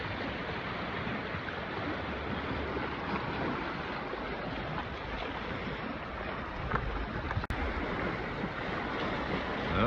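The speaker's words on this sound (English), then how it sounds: "Gotta watch the waves here. They're crashing over you." Lake waves crash and wash against the shore near the lighthouse at Frankfort, Michigan, forming a loud, continuous roar of surf with wind buffeting the microphone and one sharp click near the end.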